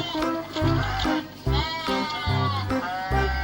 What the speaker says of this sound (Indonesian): ada domba juga nih